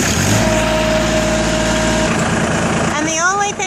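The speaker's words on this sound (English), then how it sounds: "The only thing you have to worry about turning on here is the tractor." A farm tractor engine runs with a loud, steady mechanical drone that carries on under a woman's speech.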